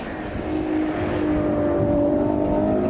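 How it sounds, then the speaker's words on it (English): Ferrari 812 Competizione V12 engine and exhaust, a steady rising engine drone with clear harmonic tones building over a few seconds, close and continuous, then cutting off abruptly. "you can drop that little screen behind the seats to let in a bunch of exhaust noise"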